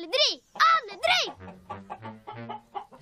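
A rooster and hens cluck in a Swedish audiobook of Pettson och Findus, a few sharp, loud calls followed by quieter clucks and murmurs.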